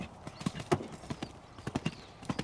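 Horse hooves trot steadily on a riding-school surface at a schooling session, giving a quick, even clip-clop rhythm close by. Soft breathing and ambient noise run beneath.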